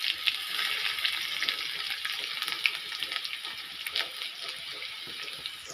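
Garlic and mustard seeds frying in hot oil in a pan, a dense steady crackling sizzle with scattered pops, close and continuous.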